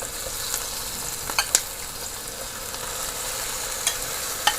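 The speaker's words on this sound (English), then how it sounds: "Now I'm going to add the shrimps in." Shrimp sizzle and fry in a pan for stuffed bitter melon, a steady bright crackle with a few sharper pops and spits standing out over the continuous hiss.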